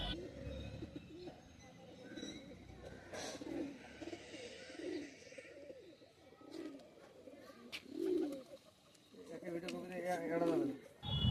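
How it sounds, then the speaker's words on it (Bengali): A male green tumbler pigeon cooing nearby in soft, repeated low coos at a steady pace, heard under a person's speech. "এটা একটা নর পায়রা, সবুজ নর।"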